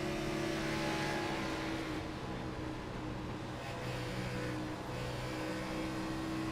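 A NASCAR race car runs a lap at Dover in the iRacing sim, its engine a steady, loud, sustained drone with a constant pitch throughout and no talking.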